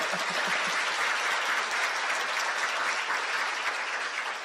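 Steady, dense applause from a crowd at a New Year's opening ceremony, loud and continuous throughout with no pauses.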